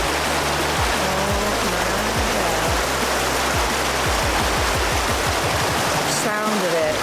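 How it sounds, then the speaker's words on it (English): Bracklinn Falls waterfall rushing from mid-river, a loud, continuous broadband roar of water heard up close, steady throughout with faint rumbling underneath. "We're sitting in the middle of the falls."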